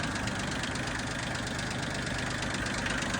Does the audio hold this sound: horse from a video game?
no